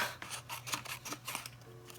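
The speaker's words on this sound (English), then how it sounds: "I am going to need my fussy cutting scissors" Small fussy cutting scissors snip through paper and card for an altered composition notebook, a series of quick close crisp cuts at an uneven rhythm, quiet and alone.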